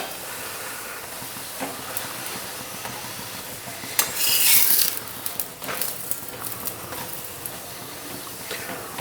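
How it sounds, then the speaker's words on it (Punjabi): Bathua paratha sizzling in ghee on a hot griddle, a steady broadband hiss with a louder burst of spitting around the middle and scattered light scrapes, no talking. "ਥੋੜਾ ਜਿਹਾ ਪਰੋਠੇ ਦੇ ਉੱਪਰ ਆਪਾਂ ਹੁਣ ਘਿਓ ਲਾ ਕੇ ਤੇ ਇਸ ਨੂੰ ਰਾੜ ਲਵਾਂਗੇ"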